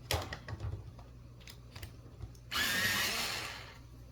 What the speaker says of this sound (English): I'm going to sharpen this one